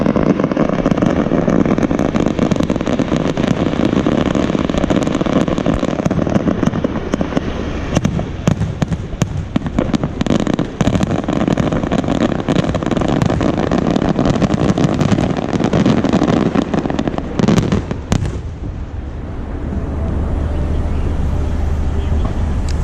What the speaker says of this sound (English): Boom. And that's how Lord March puts on the show